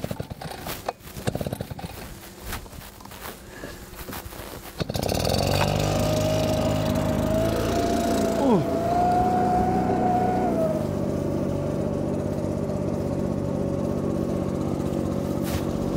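Backpack engine-powered leaf blower starts up after a few seconds of handling noise, then runs loud and close with a steady droning roar, briefly rising in pitch as the throttle is opened.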